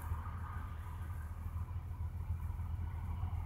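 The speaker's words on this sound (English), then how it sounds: "it sounds just like a healthy car starting" A GM 3800 Series II engine in a car running after starting, a steady low rumbling idle at close range with no voices.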